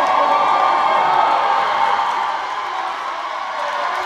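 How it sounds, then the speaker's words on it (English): Basketball crowd in an arena at a men's final between Salford and Chester, cheering and whooping steadily throughout, a loud sustained roar that eases slightly toward the end. "The fans rising to the occasion, supplying their team with some energy, some support."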